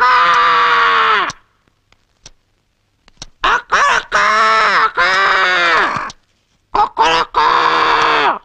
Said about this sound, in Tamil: சேவல் கூவுற சத்தம் கேட்டாத்தான் நீ ஏந்திருப்பேன்னு சொன்னாங்க, அதனாலதான் சேவலோட வந்திருக்க